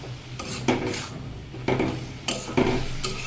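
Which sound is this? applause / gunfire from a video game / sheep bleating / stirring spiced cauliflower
stirring spiced cauliflower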